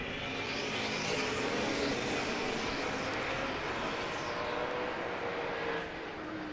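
A pack of race cars led by a Corvette accelerates from the green flag at Sebring, producing a dense, loud, sustained engine roar with rising whining tones that continues throughout.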